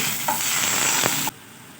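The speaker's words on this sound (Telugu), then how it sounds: "కొద్దిసేపు అవి ఫ్రై అయిన తర్వాత కట్ చేసుకున్న టమాటా ముక్కల్ని కూడా ఇందులోకి యాడ్ చేసుకోవాలి" Brinjal and dry prawns frying in a pan, a loud, close sizzle with a couple of stirring clanks that cuts off abruptly, leaving near silence.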